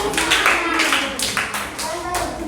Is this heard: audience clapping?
yes